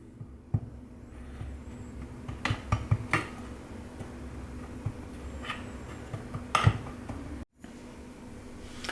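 A spoon presses crushed speculoos biscuit down into a base, giving a few soft close taps and scrapes spread out irregularly against a quiet room.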